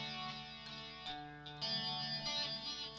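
Electric guitar played through a Roland GP-100 effects unit, a sustained harmonic-rich tone with chorus, distortion and echo, notes swelling and changing at a steady pace, alone with no talking.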